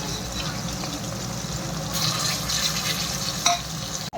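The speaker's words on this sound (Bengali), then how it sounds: "ভালো করে তেলে ভেজে নেবো মাছগুলো।" Small fish frying in hot oil in a pan make a fairly quiet, steady crackle with light stirring and a couple of sharper clicks toward the end.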